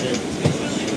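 On the adjacent platform at a station on the Secunderabad-Kollam special train route, a passing train gives a loud, steady rumble and rattle that fills the whole moment.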